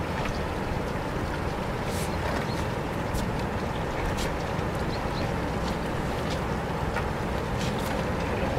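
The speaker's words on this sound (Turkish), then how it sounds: "Motoru stop yapalım." An outboard motor drives a small boat at sea while tending a fish and crab trap, giving a steady, loud, unbroken engine drone with wash noise throughout and no talking.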